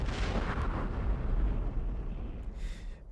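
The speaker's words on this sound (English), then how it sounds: "a trash can falling on the floor." A heavy trash can falls onto the floor, played back as a recording: one loud booming crash with a rumbling tail that fades out over a few seconds.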